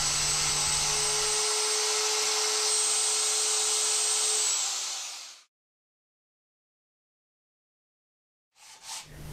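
Router fitted with an 11.11mm guide bushing cutting out a wood inlay piece, a loud continuous high whine close by for about five seconds that stops abruptly, followed by silence and a brief restart.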